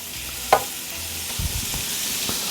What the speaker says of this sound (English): On the pan we go with our shrimp. Got it all going on here. Give them a nice little toss.